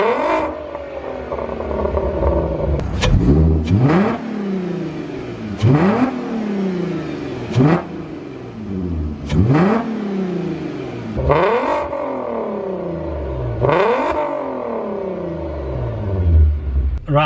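A loud modified VW Golf R32 engine with aftermarket exhaust and induction kit revving repeatedly, each rise in pitch followed by a drop, with crackling exhaust pops between the revs, close by.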